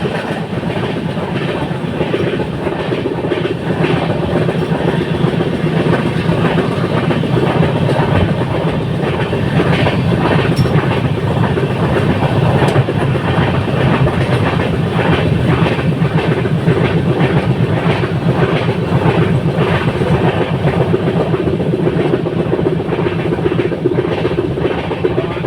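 Intercity Express 15675 running from New Jalpaiguri toward Guwahati, heard as a steady, loud rolling rumble with continuous clickety-clack of wheels over rail joints throughout, no voices.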